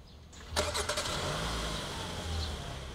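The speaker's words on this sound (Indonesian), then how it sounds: "Nanti dia akan nyala sendiri mobilnya." A 2021 Hyundai Santa Fe starts up by remote start with its doors locked, a brief crank catching into a steady, low engine idle heard nearby in a quiet setting.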